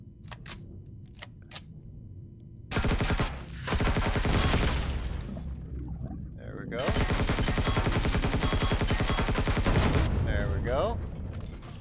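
Sustained bursts of rapid gunfire from a weapon shot at an enemy spawner in the sci-fi survival game Empyrion - Galactic Survival, loud and close, in two long volleys with brief pauses and mechanical clatter between.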